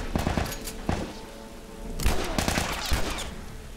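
Rapid bursts of gunfire from The Last Of Us Remastered, several sharp volleys in quick succession with a pause, then a louder cluster of shots near the end.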